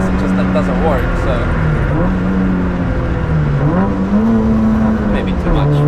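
A screaming Nissan Micra K11 race car engine on the Nürburgring holds high revs, its pitch rising and dipping as it shifts and strains close up, with a voice talking over it.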